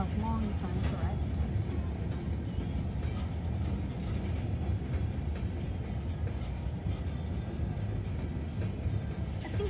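A long coal train of hopper cars rolls past at Riverview, Florida with a heavy, continuous low rumble and steady rail clatter, loud and close for the whole stretch, while a voice talks faintly under the noise.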